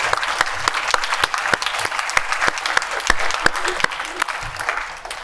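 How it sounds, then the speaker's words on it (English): A symposium audience gives its speakers a warm round of applause, a dense, steady clatter of many hands with a few sharp claps standing out, tapering off at the end. "let's just give a warm applause for our excellent speakers today"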